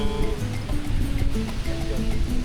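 Rough, turbulent sea waves wash continuously at a beach, a steady broadband surf roar with churning water at close range, while tonal sounds drift faintly above it.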